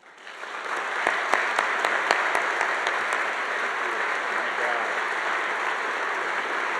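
A church audience in a Baptist sanctuary bursts into loud, sustained applause, swelling within the first second and holding steady with dense clapping to the end.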